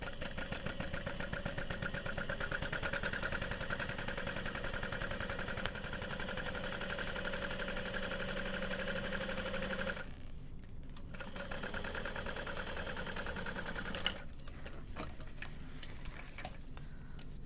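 A sewing machine top stitches a bowler bag with fast, even mechanical ticking, running continuously with brief pauses near the end.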